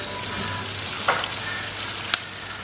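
Two large, thinly sliced onions fry in hot spices with a steady, close sizzle, punctuated by a couple of sharp stirring clinks.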